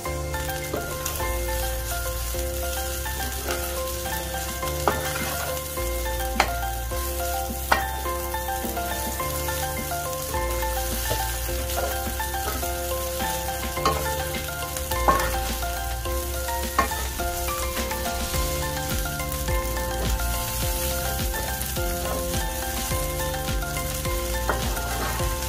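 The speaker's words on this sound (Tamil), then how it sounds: "இடியப்பம் சேர்த்த பிறகு நல்லா மிக்ஸ் பண்ணி வந்தால்" Leftover string hoppers (idiyappam) with egg are stirred in a pan for Sri Lankan egg kottu, a continuous loud sizzle with occasional scraping knocks of the spoon throughout.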